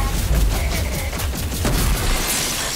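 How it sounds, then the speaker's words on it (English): A pulse cannon in the shooter game RAGE 2 fires in a loud, dense barrage, with rapid overlapping booming blasts that run continuously and close up with no gaps. "try the pulse cannon"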